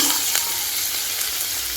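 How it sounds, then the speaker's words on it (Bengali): Prawns frying in a pan, a dense, loud, continuous sizzle and crackle heard up close with faint stirring touches and no talk. "আর এদিকে চিংড়ি মাছ ভাজছি"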